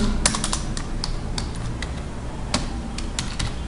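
Rapid typing on a computer keyboard while writing HTML code, a steady patter of close, crisp key clicks with occasional louder strikes, no talking.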